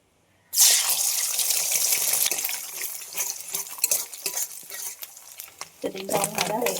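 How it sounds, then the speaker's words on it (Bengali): An egg hits hot oil in a pan with a sudden loud sizzle. The hiss stays strong for a couple of seconds, then thins into crackling while a utensil scrapes and stirs, ending with a few clinks. "প্রথমে আমি ডিমটাকে ভেজে নেব।"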